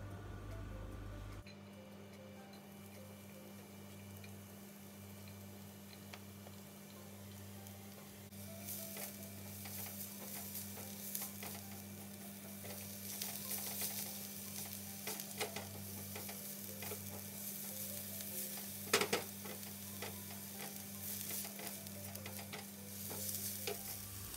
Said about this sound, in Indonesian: Tumis bawang putih, bawang merah sampai harum.